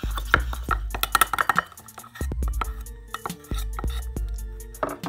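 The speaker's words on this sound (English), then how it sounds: "you'll take the screwdriver like back here or a spoon and just" Match heads are crushed into powder with a screwdriver or spoon, making close, uneven bursts of hard tapping, scraping and clicking with short pauses between.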